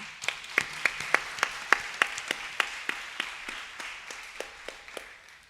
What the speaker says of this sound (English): let's please give a round of applause to Sri Satyanarayana Sriram on the Mridangam